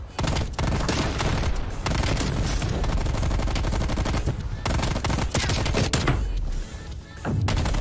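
Sustained automatic gunfire from a weapon in the video game Call of Duty: Black Ops Cold War, loud, dense and continuous with brief pauses between bursts, no talking.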